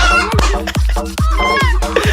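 Cartoonish chicken clucks and crows from a Roblox keyboard game, sounding loud and close in several quick clucking bursts.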